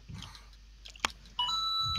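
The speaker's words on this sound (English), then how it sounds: "phone went off" A mobile phone gives a short electronic notification beep, a brief bright tone sounding alone at low level in a quiet room.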